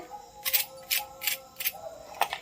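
Five crisp, close crunches from a fried Bombay duck (loitta fish) fritter being broken or bitten, evenly spaced at a steady rhythm, with no voices.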